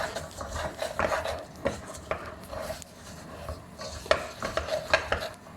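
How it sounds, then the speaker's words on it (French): Sugared caramel stirred hard in a saucepan until it turns sandy, giving steady scraping and rubbing strokes with occasional sharper clicks of the spoon against the pan, close and moderately loud with no talking. "Il faut continuer de tourner et déployer beaucoup de force."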